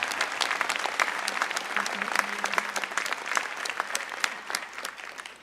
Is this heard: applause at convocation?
yes